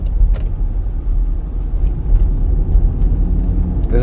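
Inside a Land Rover Defender on the road, a steady low engine and road rumble fills the cabin, with a few faint clicks and rattles above it.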